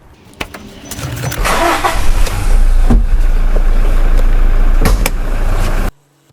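A 2020 Toyota Hilux Revo 2.8 Z Edition pickup engine starts with a few clicks, then settles into a loud, steady rumbling run close by before cutting off abruptly.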